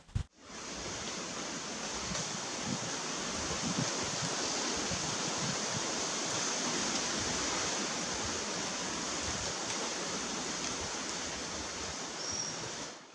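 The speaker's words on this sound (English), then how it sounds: "And every time a wind blows, it just sounds so awesome. All the leaves hitting together," Wind rushing through the palm fronds of the Vallee de Mai primeval palm forest in the Seychelles, a dense, steady roar of leaves knocking together that sounds almost like a waterfall, constant and enveloping for the whole stretch.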